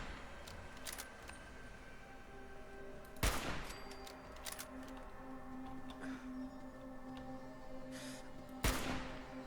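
Distant gunfire in the video game Fallout 4 cracks out in two sharp, faint bursts several seconds apart over quiet ambient background.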